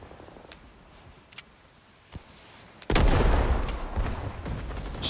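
Rifle fire in Rising Storm 2 on the Long Tan map with the M1 Garand: a few sharp, scattered shots crack out, then a loud, dense burst of gunfire erupts and rumbles on.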